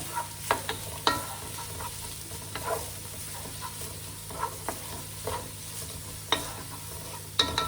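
Chinese aromatics frying in a pan, a quiet steady sizzle with regular spatula taps and scrapes every second or so, close up, no speech.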